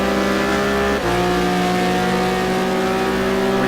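GT2 race cars circle Interlagos in a racing video game, with a loud, sustained engine whine, a sharp gear shift about a second in, and then steady high revs, with no talking over the top.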